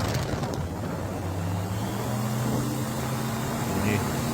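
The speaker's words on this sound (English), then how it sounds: "And he amps up the engine again." A small aircraft engine drones steadily in onboard GoPro flight footage, a continuous loud rumble with a rising tone as the throttle is pushed up, no pauses.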